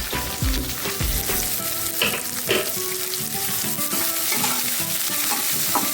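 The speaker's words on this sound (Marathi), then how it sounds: "आता थोडासा कांदा घालून घेऊयात आपण परतून" Chopped onion sautéing in hot oil for a simple potato curry hisses and crackles steadily, broken by repeated scraping and clattering of a spoon against the pan, close and fairly loud with no voices.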